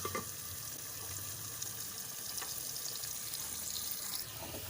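Onions fry in a pan for a potato and egg curry, a steady broadband sizzle that holds constant and fairly close for the whole stretch, with faint clinks and stirring noises.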